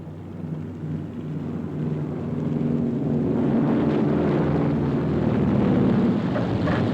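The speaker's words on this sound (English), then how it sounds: "The last of the carrier-borne aircraft return." Carrier-borne aircraft come back aboard an aircraft carrier during wartime operations, a broad engine roar mixed with wind rush that swells and holds steady, loud and continuous.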